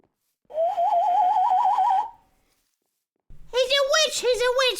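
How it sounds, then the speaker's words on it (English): A bird call whistle sounds one sustained, warbling tone with a quick vibrato for about a second and a half, then stops, and a person starts speaking after a short pause. "And then this is a bird call."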